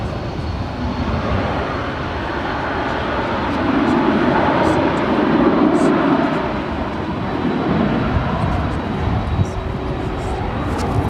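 A UPS Boeing 767-300ER, nine years old, at DFW airport, with a steady broad jet roar that swells in the middle and then holds at a distance. Background chatter runs underneath.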